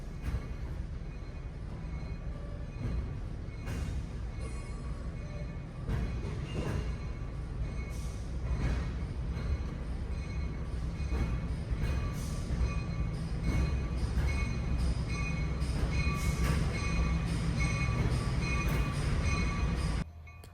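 A train ride with a Chesapeake and Ohio extended-cupola caboose at the Ravenna Railroad Festival, a steady rumble of wheels on rail with rhythmic clacks and faint squeals that runs throughout, heard from on board.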